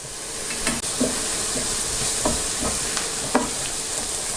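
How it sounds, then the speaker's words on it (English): Onions fry in a very hot pan with hot and smoked paprika, a steady close sizzle broken by repeated scraping stirs of a utensil against the pan, with no talking. "The heat is quite high, so I keep stirring constantly to prevent the onions from burning."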